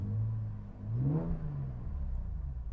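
A 5th-generation Chevrolet Camaro engine runs at a low rumble, briefly rising in a short rev before settling back to a steady idle.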